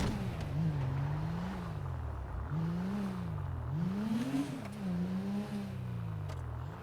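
A car engine in FiveM revs repeatedly, its pitch rising and falling in several distinct swells, close up and steady, with no talking.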